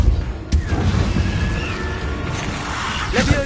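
A magical Depulso blast in the Hogwarts game lands with a thudding boom and crash, then rumbles over a dense, busy game backdrop.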